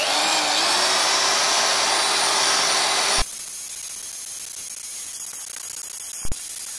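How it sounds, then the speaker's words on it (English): A power drill whirs steadily at close range with a grinding, polishing hiss on a bronze bar, then cuts out abruptly halfway; a quieter hum and a brief clunk follow. "let's see how this thing polishes up and how my dumpster found drill will perform"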